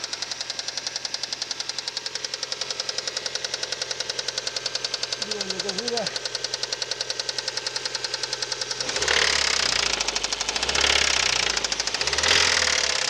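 Mazda 626 engine with a knocking fault, ticking in a fast, steady metallic rhythm while idling; a louder rev-up rumble swells near the end.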